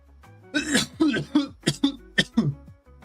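A string of about seven close, harsh coughs and throat-clearing bursts in quick, uneven succession.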